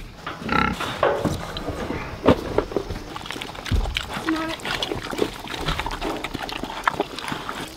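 Pigs being fed on a farm, with grunting and snuffling, splashes of feed or water, and footsteps close by, mixed with scattered voices and clatter.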